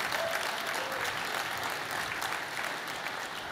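Audience applause fills a large keynote hall at Google I/O 2013, a steady, dense wash of many hands clapping at even loudness throughout, with no voices over it.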